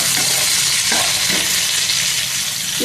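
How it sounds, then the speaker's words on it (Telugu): Thinly sliced ivy gourd (tondakaya) fries in a large kadai, giving a loud, continuous close-up sizzle with a few soft stirring scrapes and no talking. "దొండకాయలు బాగా వేగాలండి అందుకోసం పెద్దగా కళాయి పెద్ద కళాయి పెట్టాను మాడిపోకుండా"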